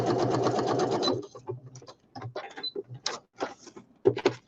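A sewing machine runs in a fast close whirr as it stitches woodland-themed journal ephemera, then stops and gives short intermittent bursts of stitching.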